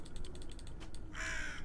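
A crow-like bird squawks and caws in the Tick Tock: A Tale For Two video game, with a harsh rasping call near the end that rises above soft, steady clockwork ticking and ratcheting.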